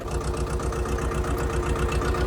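A tractor engine runs steadily while ploughing, held low at no more than about 1000 RPM, giving a close, continuous rhythmic chugging throb with no talk.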